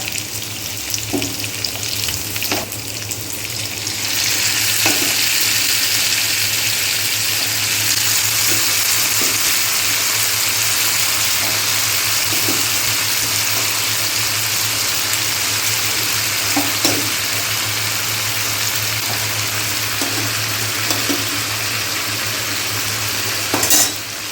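A double tempering for Amritsari soya chunk kulcha with onion and capsicum sizzles loudly in a pan, starting after a few seconds of quieter clatter and holding a steady close hiss with occasional stirring clinks, no talk.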